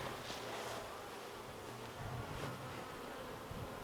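Honeybees buzz softly and steadily around an opened split beehive frame where young bees are hatching, a faint continuous hum with light wind rustle throughout.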